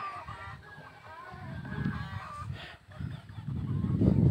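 Chickens on a rural farm cluck and squawk in a busy, overlapping flock, close by against steady outdoor background noise.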